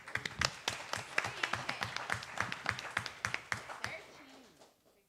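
A group applauds after a unanimous vote in a youth council session at a school, steady rhythmic clapping from a modest crowd that thins out and fades near the end.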